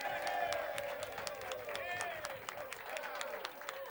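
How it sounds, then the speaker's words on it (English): Studio audience applauding and cheering for an R&B singer on a late-night show, a steady wash of clapping with whoops while a voice talks over it. "Ladies and gentlemen, give me a nice round, warm applause"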